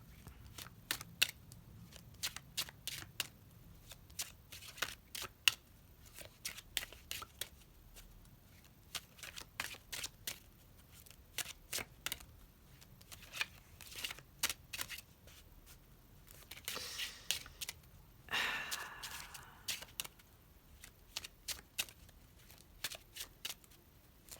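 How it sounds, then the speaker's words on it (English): Tarot cards are shuffled by hand in repeated quick riffling bursts, each a crisp flurry of card snaps separated by short pauses, close and fairly quiet, with a brief rustle near the end. "Let's see if we can get another card out."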